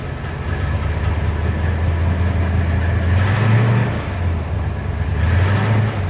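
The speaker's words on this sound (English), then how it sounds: "The car is idling." An idling car engine fitted with an MSD ignition runs nearby with a loud, steady low rumble that swells slightly once or twice, with no one talking.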